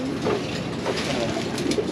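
Pigeons in a breeding loft coo in soft, repeated low throaty calls, close and overlapping against a steady background hum.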